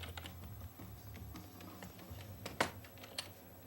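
Quiet, scattered clicking of a computer keyboard plugged into a PlayStation 3, with a couple of sharper key taps standing out near the end.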